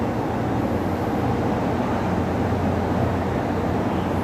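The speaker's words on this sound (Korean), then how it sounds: "슬슬 열차가 진입한 걸로 보이는데" Mugunghwa train No. 1624, running from Bujeon to Cheongnyangni, pulls into a station with a loud, steady, unbroken rumble that fills the whole stretch, with no talking.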